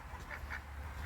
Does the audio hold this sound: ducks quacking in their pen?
yes